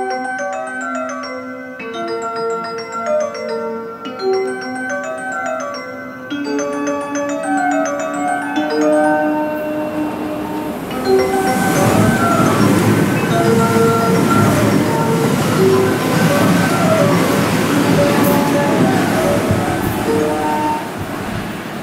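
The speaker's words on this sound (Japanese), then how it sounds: "1番乗り場を電車が通過します。" A JR Hanwa Line electric train (225-5000 and 223-2500 series rapid) roars through Asaka Station without stopping, its rumble swelling loud and steady after a chiming tone melody, with rattling wheels passing close by.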